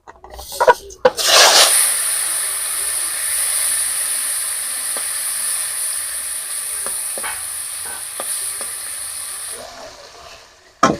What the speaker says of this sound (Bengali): মাছগুলো এখানে ভাজা হতে থাক